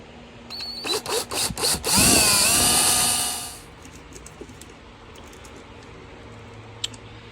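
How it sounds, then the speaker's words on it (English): A power drill bores holes in an insulated backing plate for mounting solar panel hardware on a Country Coach motorhome: several quick trigger bursts, then one sustained close whine of about two seconds, followed by quiet room tone. "We'll get some holes drilled in it and we'll get it mounted down in one insulated backing plate."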